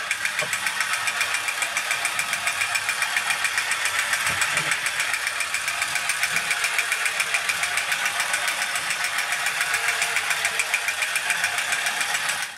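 Small motor and gears of a refurbished ForceBot toy robot, running as a steady, fast rattling whir that continues unchanged throughout.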